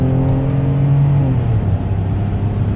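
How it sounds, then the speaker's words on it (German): A Mercedes-Benz S 600 W140 with its V12 under kickdown acceleration, pulling hard through the lower gears: a loud, close, continuous engine roar with harmonics sweeping upward through each gear, without any talk. "jetzt geben wir richtig Kickdown und lassen wir das Auto ein bisschen drehen in den unteren Gängen"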